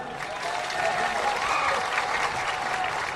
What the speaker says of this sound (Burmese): အားလုံးကျွန်တော်တို့လက်ခုပ်တန်လေးနဲ့ကြိုဆိုပေးပါလား